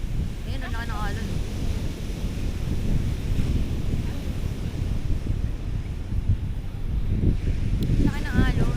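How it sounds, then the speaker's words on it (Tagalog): Large waves at Haeundae beach in Busan at night make a steady, loud surf roar with gusting wind noise on the microphone. Brief voices come in near the start and end. "Ayun, ang laki ng alon."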